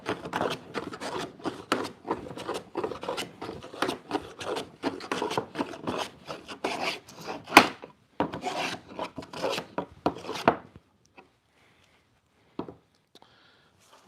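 A Lie-Nielsen hand plane shaves a wooden board in quick, repeated rasping strokes, close and crisp, before the strokes stop and the sound drops to near silence with a few faint knocks.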